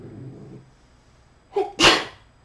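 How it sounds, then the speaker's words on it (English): A single sharp human sneeze, close and loud, comes after a short gasping intake of breath in an otherwise quiet indoor space. "I don't know why I'm sneezing"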